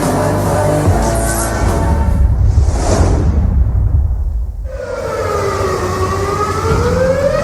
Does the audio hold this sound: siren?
yes